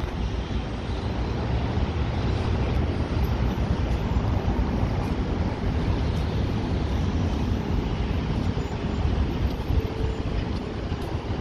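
Steady roar of wind and rushing sea water on a seafront corniche in Al-Khobar, constant and loud throughout, with a low rumble underneath and no voices.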